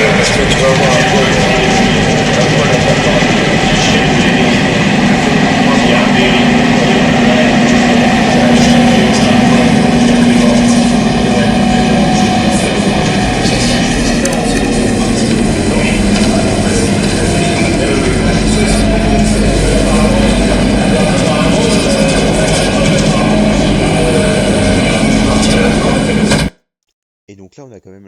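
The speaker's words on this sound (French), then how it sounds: "Et donc là, on a quand même l'impression que c'est un bruit de métro" A continuous loud rumble resembling a metro train runs for nearly the whole recording, a dense roar with a faint steady hum, then cuts off abruptly near the end.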